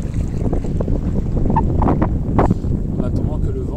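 Wind buffets the microphone on a lake during a canoe trip at Müritz, Germany, a loud steady rumble with water lapping and scattered knocks from the boat; a voice is faintly present.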